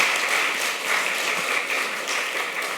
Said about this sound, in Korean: 네, 박수 한번 보내겠습니다.